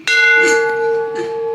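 A ship's bell aboard the Confederate ironclad CSS Neuse at a museum in Kinston, North Carolina, is struck once up close, ringing out loud and clear and decaying with a sustained metallic tone.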